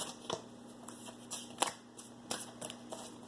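Tarot cards being shuffled, a series of crisp riffling snaps and taps at irregular intervals, close by, with no voices.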